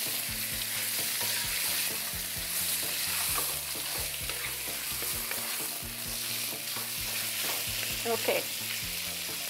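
Thinly sliced skinless salmon fillet stir-fried quickly in a pan over a high flame, with steady loud sizzling and repeated scraping stirs throughout; a brief word is spoken once.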